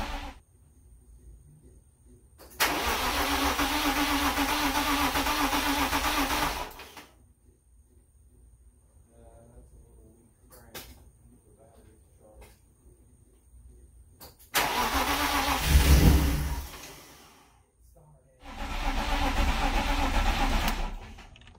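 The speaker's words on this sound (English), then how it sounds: "That's a little weak crank. I know the battery's charged. It started." A car with a weak crank being started in neutral: several loud, several-second bursts of labored cranking separated by quiet pauses with small clicks and handling sounds, the last attempt catching and running.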